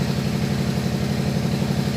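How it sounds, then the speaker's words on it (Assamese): A tractor engine idling with a steady, low, even throb that stays at the same level throughout, close by and with no voices over it. "এই ট্ৰেক্টৰৰ মাতটো একোৱে শুনা নাই"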